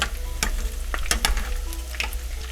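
Coconut shrimp fry in a pan of hot oil with a steady close sizzle, punctuated by several sharp clicks and scrapes of a utensil moving the pieces.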